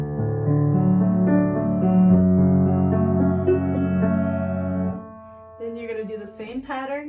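Piano arpeggio pattern, played as sustained rolling chord tones for about five seconds, then a quieter, brighter run of higher notes.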